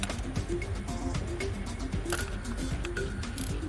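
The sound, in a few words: wrench breaking loose 8mm fuel pump bolts, Ford Fusion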